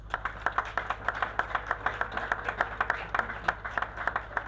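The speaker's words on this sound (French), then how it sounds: "je demande qu'on vous applaudisse" Audience at an official gathering applauding in a fairly even rhythm, distinct claps at moderate distance over a low steady hum.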